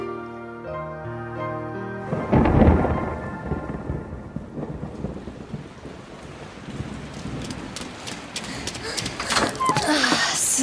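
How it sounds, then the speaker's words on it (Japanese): Heavy rain pours down with deep rolling thunder, a loud, steady downpour that swells in after a short soft tonal opening and keeps drumming on surfaces, with no voices. "ああ、すごい雨ね。"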